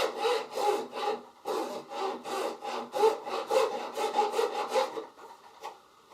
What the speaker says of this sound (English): You get it started, nice and easy, and then we just go easy and make sure we're only cutting 180 degrees.